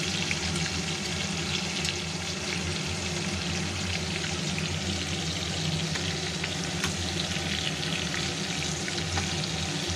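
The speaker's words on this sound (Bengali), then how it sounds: "এদিকে মাছ ভাজাটা চলুক" Padma hilsa fish frying in oil in a pan: a strong, continuous sizzle with a watery, spattering texture and scattered small pops, close up and unbroken by speech.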